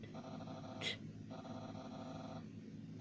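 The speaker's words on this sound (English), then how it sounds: "Look in the car. Yeah, the dog's gonna be there." A low, rumbling dog growl from the video game Undertale runs steadily through the scene, pausing once around a brief sharper noise, with no voices over it.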